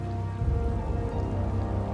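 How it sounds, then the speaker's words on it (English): Steady rain falls in the video game Tales of Vesperia, a continuous hiss of drops with a low rumbling bed underneath, moderately loud and without voices. "This is our chance. It's raining after all."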